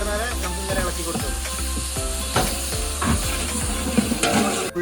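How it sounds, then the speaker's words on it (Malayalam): Sliced onions frying in oil for a Tamil Nadu-style beef biryani, a loud continuous sizzle broken by repeated scraping strokes of a spoon stirring the pan, close and steady with no voices. "ഈ രണ്ടും നല്ല ഗോൾഡൻ കളറായി വരുന്നവരെ നമുക്ക് ഇങ്ങനെ ഇളക്കി കൊടുക്കും"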